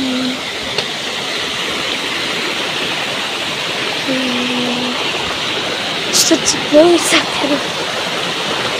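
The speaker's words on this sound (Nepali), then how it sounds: "बम खोला आइपुग्यौँ हामी।" The Bam river in Bhojpur rushes steadily and continuously, a dense, loud wash of flowing water that fills the whole stretch, with a brief voice and a few faint tones over it.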